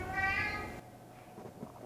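A pet cat meows once, a drawn-out, fairly close call in a home kitchen where mac and cheese is being made, followed by quiet room noise.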